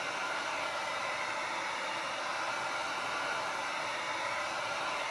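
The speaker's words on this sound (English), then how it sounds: "Now, the residual moisture I'm gonna evaporate out with the heat gun." A heat gun blows a steady, loud rush of warm air while drying the hood of a Losi 5ive-T RC truck after wrapping, continuous and unbroken throughout.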